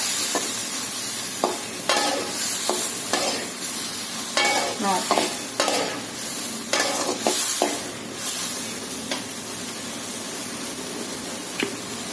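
Green chillies fry in a little hot oil, crackling and hissing close by while a spatula scrapes and stirs them in uneven bursts, with no one speaking.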